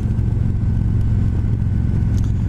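A 2020 Harley-Davidson Street Glide Special FLHXS with a 114 engine rumbles along on a demo ride. Its loud, steady low engine drone blends with road and wind noise, heard from the rider's position.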